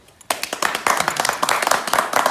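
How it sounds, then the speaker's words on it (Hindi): A small group claps after a craftsman shows off a 150-year-old lock: dense, irregular hand claps start suddenly and carry on steadily, close and fairly loud. "ये कमाल ताली बजाओ।"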